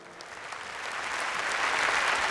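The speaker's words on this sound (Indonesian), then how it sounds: "Sekali lagi kita berikan tepuk tangan yang meriah untuk RCTI." A large crowd applauds at the AMI Awards music ceremony in Indonesia, a dense clapping wash that swells gradually louder and fills the clip with no voices heard.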